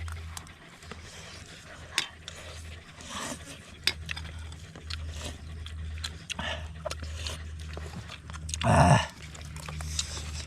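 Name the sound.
dog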